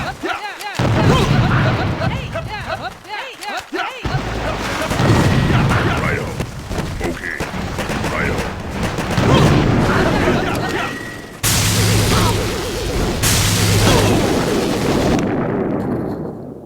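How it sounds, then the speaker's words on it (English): Boom cannon blasts and other weapon fire in a Boom Beach warship battle video game, a dense, loud stream of booms, shots and impacts layered over game music and sound effects. "the reason that boom cannon's up there in the front is so you can get some kills right away"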